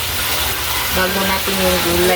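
Onions and aromatics sautéing in a pan for ginisang upo with sardines, a steady close hiss of frying with a faint tonal hum, while a voice talks over it.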